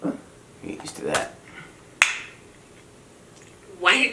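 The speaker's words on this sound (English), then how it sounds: "Why did you just clap?" A single crisp hand clap lands near the middle, sharp and close, between quieter scattered sounds in a podcast studio.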